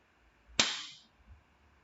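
A single sharp snap from a hyaluron pen firing a shot into a lip during a cosmetic lip correction, close and crisp with a short hissing tail, alone in a quiet room.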